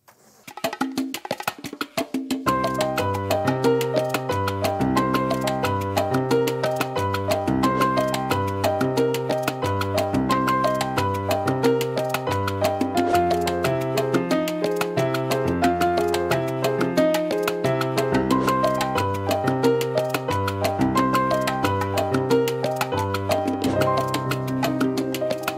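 A Latin piano montuno vamp loops steadily and loudly with added percussion, with syncopated chord stabs and a bass line repeating over roughly twenty-five seconds.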